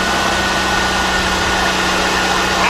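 A Chevy S10 pickup engine running steadily after an exhaust manifold replacement, a loud, close, even idle with constant mechanical hum and no talk over it.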